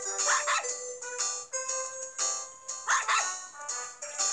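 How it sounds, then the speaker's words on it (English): Labrador puppy in Nintendogs barking in short bright yips, a couple of distinct double barks repeating close and loud with no talk over them. "Okay, that's double bark."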